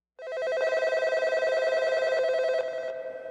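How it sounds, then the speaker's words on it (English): Telephones ringing nonstop at the Toronto Metro police station in 1990, a loud, steady trill of bells going on and on for a few seconds with no voices over it. "the Toronto Metro PD's phone lines are ringing off the hook"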